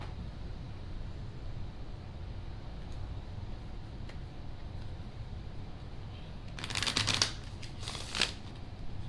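Tarot cards being shuffled during a pick-a-card reading, a couple of brisk riffling bursts near the end over a steady low background hum.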